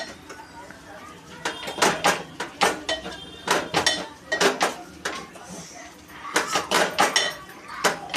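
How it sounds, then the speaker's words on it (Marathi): A spoon stirs poha with sugar and salt in a pan, making a run of sharp metallic scrapes and clinks in uneven bursts, close and moderately loud against a quiet background. "आता मी हलवून घेतोय"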